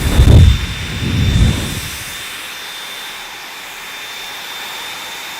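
A Dyson Supersonic hair dryer runs with a steady airy hiss and a thin high whine, after a couple of heavier gusty bursts at the start.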